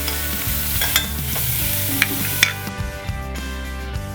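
Prawn poha frying in a pan as salt, sugar, ginger and curry leaves go in, a continuous close sizzle broken by a few sharp scraping stirs of a spoon, with no talking.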